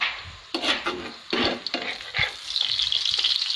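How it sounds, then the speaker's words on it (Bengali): Food fries on a hot tawa griddle, with close, steady sizzling broken by several sharp scraping and stirring strokes of a spatula. The sizzle rises into a continuous hiss toward the end. "তাওয়া বসিয়ে দিয়ে এটা ভেজে নেব"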